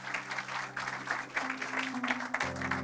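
Moderate audience applause at a church gathering, rhythmic bursts of clapping rising and falling in waves, with sustained musical tones underneath and a change of chord toward the end.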